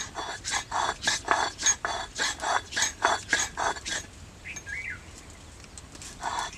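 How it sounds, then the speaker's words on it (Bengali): Cumin and ginger ground on a flat grinding stone give a steady run of rhythmic rasping scrapes, about a dozen strokes close by, then stop, leaving a quiet pause with faint background sounds. "আদাটাও বেটে নে এর সাথে।"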